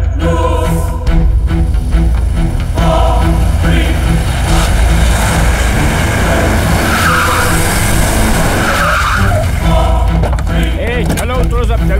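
A car pulls away and skids hard in a Hindi-dubbed South Indian action film, loud engine roar with squealing tires rising and sweeping across the scene, mixed with music and voices.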